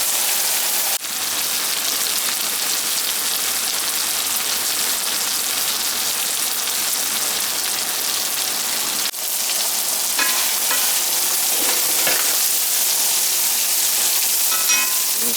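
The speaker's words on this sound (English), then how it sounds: "This stuff's already pre-cooked, so I'm just kind of browning it." Pre-cooked meat browning in a hot pan gives a steady, dense sizzle like rain on a surface, loud and even, broken by two brief clicks, with no voices.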